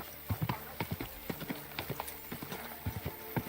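Hooves of a common horse clip-clopping in a steady, uneven rhythm in the medieval video game Kingdom Come: Deliverance II, fairly close and clear, with faint game ambience beneath and no talk.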